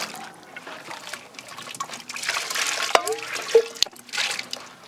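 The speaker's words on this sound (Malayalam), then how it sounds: "നേരെ നമ്മൾ സിറപ്പ് ഒഴിക്കണേ" Syrup is poured over the fruit filling of a giant fruit jelly cake, a soft liquid trickle with a few drips, close and fairly quiet, with no talk.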